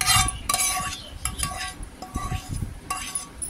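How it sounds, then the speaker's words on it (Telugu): Tomato pieces go into chutney cooking in a pan, with clinks of a metal spoon, scraping and stirring, and a light sizzle in short bursts, close by. "ఇప్పుడు టమాటో ముక్కలు కూడా వేసేసుకుందాం"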